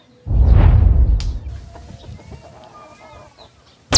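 A chicken lets out a loud, close squawking cluck, followed by quieter clucking and faint background noise.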